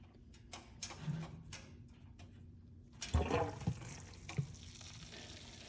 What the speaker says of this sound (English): let's add 6 1/4 gallons of water at 168 degrees